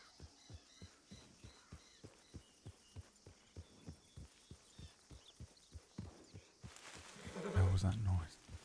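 Hooves of a deer in a video game, a steady rhythmic clip-clop of footfalls, fairly faint and regular, ending in a louder rumbling burst of noise as a voice speaks.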